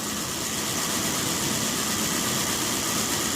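Car engine, troubleshooting a P1345 engine code, held at around 1,000 RPM with a steady, dense idle-like drone and vibration, unbroken and close, without talk.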